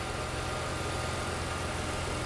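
A car engine idles steadily with a low, even rumble and constant vibration, no voices.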